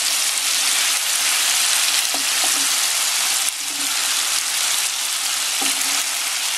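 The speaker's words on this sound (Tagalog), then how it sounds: "Fry lang natin hanggang sa matuyo yung liquid." Pork sizzles and fries in a pan while its marinade liquid cooks down for humba, a steady close hiss with a few soft pops and stirring scrapes.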